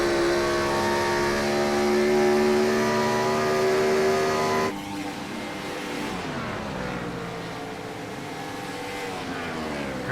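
Open-wheel race cars scream past at Homestead in a No Bull Racing Series race, a loud sustained engine note that drops sharply as the driver lifts off the throttle, then more distant engines droning on.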